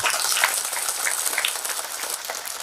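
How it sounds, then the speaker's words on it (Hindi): Audience clapping at a religious discourse in a village, a scattered, rain-like patter of hands at moderate loudness that thins slightly over nearly three seconds, with no one speaking. "जोर से ताली बजाया करो"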